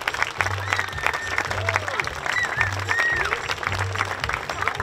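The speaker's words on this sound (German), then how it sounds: "Großen Applaus, bitteschön!" Audience applause at a horse show during the Winnetou-Spiele in Wagram, a steady spread of clapping under a presenter's voice and background music.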